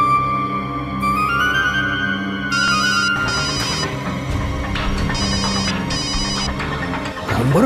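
A telephone ringing in repeated electronic bursts, loud and up close, over a steady bed of background music with no talking.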